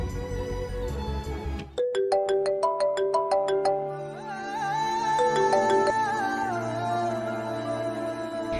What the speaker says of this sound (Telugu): రే సుభాన్, మీ అమ్మ ఫోన్ చేస్తుంటే ఎత్తడం లేదంట కదరా